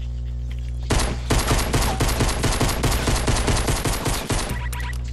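Gunfire in Fortnite, a rapid burst of automatic shots lasting several seconds, loud and close, ending abruptly, no talking.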